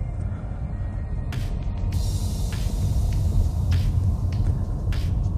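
A DS 3 Crossback E-Tense electric car pulling away in drive gives a steady low rumble of tyre and road noise inside the cabin, with a few brief higher hisses over the constant hum.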